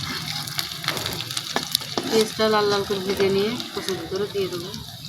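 Mashed wild taro (kochu) with olives is stirred in a pot, giving soft scraping and squelching strokes, while a person talks over the sound.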